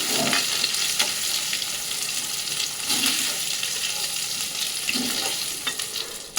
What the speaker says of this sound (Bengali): ওই জন্য আমি কড়াইয়ের মধ্যে দিয়ে রান্নাটা করছি চিকেনটা ভেজে নিই